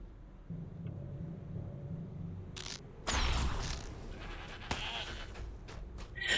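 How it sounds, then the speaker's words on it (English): Goats bleating in the fantasy video game LOTRO, a few soft, wavering calls at moderate distance over a low game ambience, followed by louder bursts of in-game effects. "Those red horn goats"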